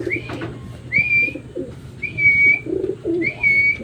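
Pet pigeons coo in a repeated, close, fairly loud pattern of three or four soft calls, with faint background noise between them.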